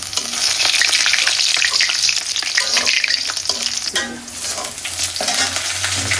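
Food frying hard in a pan, a loud, steady sizzle and crackle running throughout, with occasional scraping and stirring clatter and no talking.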